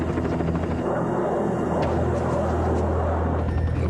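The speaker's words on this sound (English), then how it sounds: "Ask Interpol if they launched a drone to follow the train." Steady rotor-like drone of an aircraft flying overhead while pursuing a train, a continuous low droning hum that stays loud and constant throughout.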